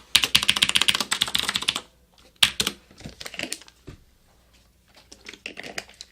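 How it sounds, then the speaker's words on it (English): Fast, dense clattering of keys on a computer keyboard while coding in Rust, a rapid burst at first, then scattered shorter runs of keystrokes after a pause, close and clear with no talking. "At least I type faster with this keyboard."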